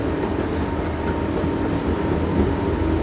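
An Osaka Loop Line train running through on the Yumesaki Line toward Tennoji gives a steady, loud interior rumble of wheels and motor, with a constant roar and no break.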